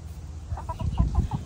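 A pet chicken clucks in a short run of soft, close, quick clucks, about six in a row, over faint background noise.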